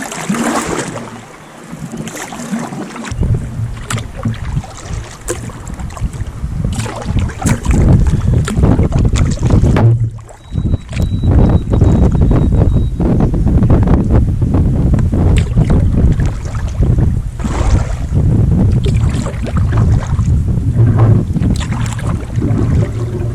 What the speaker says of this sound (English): Using this kayak paddle, there's no real finesse in it